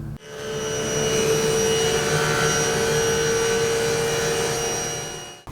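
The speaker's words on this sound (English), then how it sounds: "I'm just going to run it through the table saw and take about 1/8 of an inch off the front of this piece" A table saw trimming about an eighth of an inch off the front edge of a veneered panel, the blade spinning up into a loud, steady whine that holds while it cuts and then winds down.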